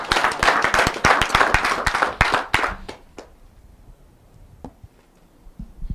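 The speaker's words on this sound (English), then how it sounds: "So when I no go clap for him now" Several people clap hands in a quick, loud burst of dense claps that thins out after about three seconds into a few scattered, separate claps over a quiet background.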